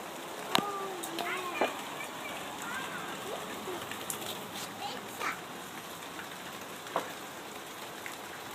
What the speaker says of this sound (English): It's about 85 degrees and huge downpour, big huge raindrops, and Keller and Sylvie are loving it.